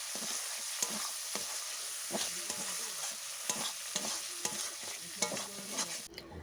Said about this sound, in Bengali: এরপর দেব টমেটো কুচি, পরিমাণ মতো লবণ দেওয়ার পর ভালোভাবে নাড়াচাড়া করে মশলা কষে নেব